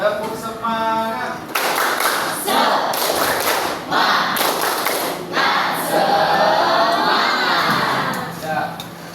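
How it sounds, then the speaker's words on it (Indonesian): An Indonesian class of eighth-grade students performs the tepuk semangat clapping chant: bursts of rhythmic hand claps and thumps mixed with children's shouting voices, loud and close, filling a lively classroom. "Kita bareng-bareng tepuk semangat."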